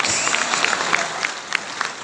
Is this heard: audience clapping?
yes